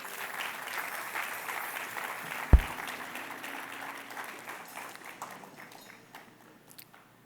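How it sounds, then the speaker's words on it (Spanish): Congregation applauding during a Spanish-language church sermon, a sustained mid-distance clapping that swells, carries a single sharp thump partway through, then gradually thins and fades toward the end. "Dale un aplauso a la palabra."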